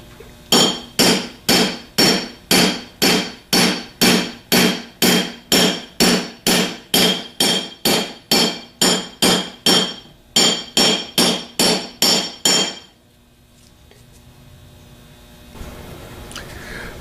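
A hammer strikes a bushing back into a metal casting in a run of about twenty-five sharp, evenly spaced metallic blows, close and loud, a brief pause near the end, then the strikes stop and quiet room noise remains.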